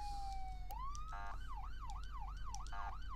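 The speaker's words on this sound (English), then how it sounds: "I wanted to see the lights and sirens." A police car siren in the video game Flashing Lights starts with a falling tone, then a rapid rising whoop, then settles into a steady wailing sweep, with short electronic bursts mixed in, heard alone at moderate level.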